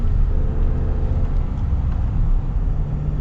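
A 2022 Ram 1500 Warlock pickup accelerates, its engine a steady, close, low rumble that holds even throughout, with no voices over it.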